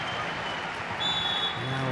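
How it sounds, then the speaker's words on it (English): At a women's Nations League football match between Austria and Germany, the stadium crowd gives a broad, continuous cheer that swells louder partway through, with a commentator's voice faintly underneath. "Loud cheer."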